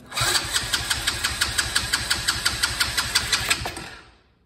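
A 2022 RFZ Sportrax 125cc ATV engine cranks over on a jump box without starting, a steady rapid chugging of starter turns lasting about four seconds, loud and close, then cutting off.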